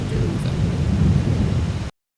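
Steady rain in the Farming Simulator 22 video game, a dense, even hiss with a low rumble that runs close and loud before cutting off abruptly.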